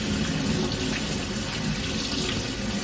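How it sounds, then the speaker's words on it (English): A kitchen tap runs steadily while someone washes their hands, a close, continuous splashing rush of water with no talking. "I just got to wash my hands, guys."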